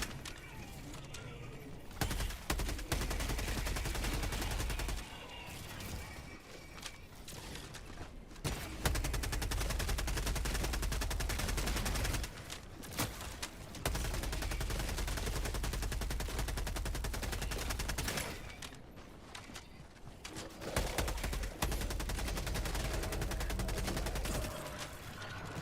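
Sustained automatic Liberator rifle fire in Helldivers 2, long dense bursts broken by short pauses near 2, 8, 13 and 19 seconds, loud and close, with faint game effects underneath.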